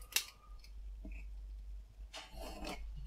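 Scissors snipping a paper corner for bookbinding, a crisp cut near the start followed by a longer, faint rasping cut, quiet and close against a low hum.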